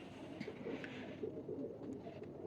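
Pigeons, a black-faced Rampuri cross, give faint, repeated low coos in a quiet setting, several soft calls spread evenly.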